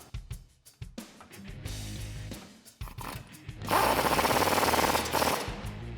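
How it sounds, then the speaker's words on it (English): Shock absorber bolts being tightened with a tool on the rear of a 2007-2018 Silverado or Sierra, with short mechanical clicks and handling noises, then a loud continuous buzzing tool run of about two seconds near the end. "now we can tighten the bottom one down, and followed by the top one."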